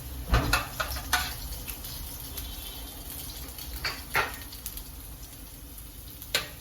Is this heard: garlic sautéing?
yes